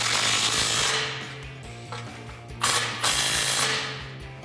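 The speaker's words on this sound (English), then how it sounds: "our last clamp, which is going to be tightened down with our 13mm socket" A ratchet with a 13mm socket tightens the clamp on a Flowmaster American Thunder cat-back exhaust fitted to a Jeep Wrangler JL 3.6L, giving a fast, close run of metallic clicks and grinding with a louder burst partway through, no talk.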